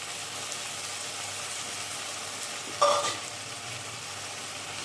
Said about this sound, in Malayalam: തക്കാളിയും കൂടി ചേർത്ത് നന്നായിട്ട് മിക്സ് ചെയ്ത് വാഴറ്റി കൊടുക്കാം